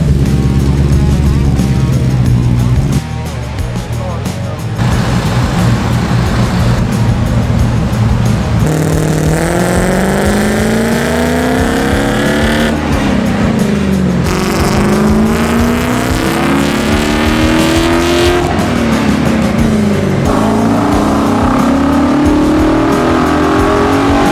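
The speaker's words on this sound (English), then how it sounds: "Let's get this thing on the engine dyno and see how much power this Voodoo engine makes." A Voodoo V8 swapped into a Mercedes revs hard on an engine dyno through a MagnaFlow exhaust, loud and close, with repeated rising pulls climbing in pitch then dropping back, a short lull between them.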